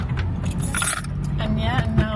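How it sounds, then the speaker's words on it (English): Several sets of new house keys, freshly picked up from an estate agent, jingle and clink in a few short bursts while a person talks over them. "So I just went to the estate agents to pick up my keys."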